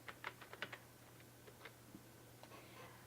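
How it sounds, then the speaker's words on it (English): A short burst of soft typing on a computer keyboard. A handful of light, uneven clicks cluster at the start, then sparser taps follow over a low steady hum. "Let me type that there."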